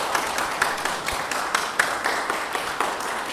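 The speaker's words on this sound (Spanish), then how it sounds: "Así que la recibimos con un aplauso y la oímos." Audience applause at an academic lecture on Werner Jaeger and Greek paideia: steady, moderately distant clapping from a seated crowd with a dense, even patter throughout and no voices over it.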